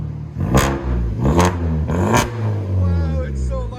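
A 2011 Kia Optima SX turbo with straight pipes, loud and close, gives three quick sharp revs followed by a steady roar, while people talk and exclaim over it.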